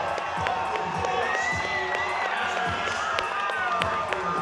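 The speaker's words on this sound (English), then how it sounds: "Listen to that crowd. Wow. Listen to that crowd. Oh my goodness, this place is going bananas." An arena crowd at a professional MMA event roars after a fight-ending submission, a steady distant din of cheering and shouts with scattered sharp claps and whistles throughout.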